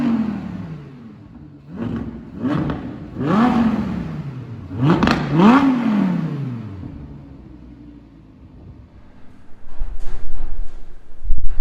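A Suzuka Grey 2017 Audi R8 V10 Plus with its 5.2 FSI V10 revs hard several times, each blip rising and falling in pitch, then settles to a low idle before a final swell, loud and close.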